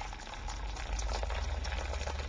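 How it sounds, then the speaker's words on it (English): Recently boiled water poured from a kettle into a roasting tin holding a cheesecake tin, a steady close bubbling, splashing liquid sound running continuously for a couple of seconds with no talk. "I'm going to pour a kettle of recently boiled water into the roasting tin"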